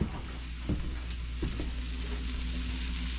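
Tomatoes fry in a pan over a camp stove outdoors in late fall, giving a steady close sizzle with a few soft stirring knocks and no talk.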